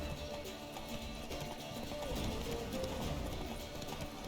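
The horse Roach galloping in The Witcher 3, with steady rhythmic hoof clip-clops running continuously at a moderate level under a busy mix of game sound and a voice.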